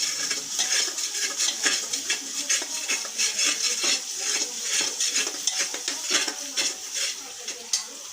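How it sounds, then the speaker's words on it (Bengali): Beef nehari masala is stirred and sautéed in a pot, the spoon scraping and clinking against the metal in a rapid, irregular rhythm over a soft sizzle, close and alone. "সুন্দর করে কষিয়ে নিচ্ছি"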